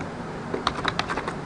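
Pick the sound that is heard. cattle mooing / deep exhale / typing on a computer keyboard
typing on a computer keyboard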